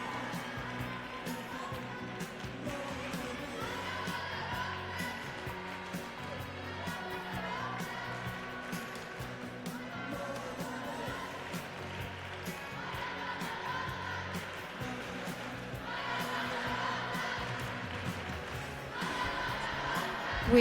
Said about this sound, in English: Who is making so much noise in the crowd?